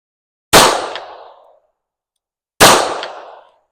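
Two sharp shots from a Remington 1911 R1 pistol loaded with hollow point rounds, spaced about two seconds apart, each loud and close with a short decaying ring and no voices.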